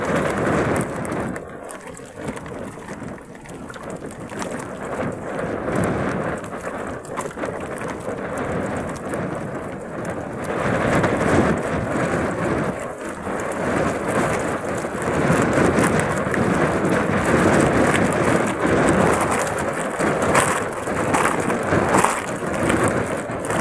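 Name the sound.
rain and thunderstorm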